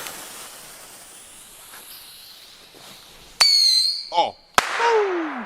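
New Year's Eve fireworks and firecrackers: sharp bangs burst out after a stretch of quiet outdoor noise, followed by crackling pops and whistling fizzes, loud and close.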